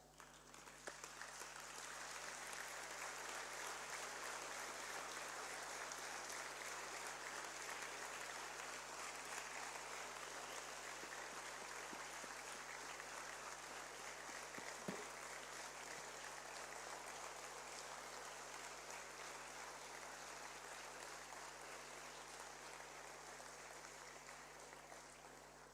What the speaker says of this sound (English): face our parents, and give them a huge round of applause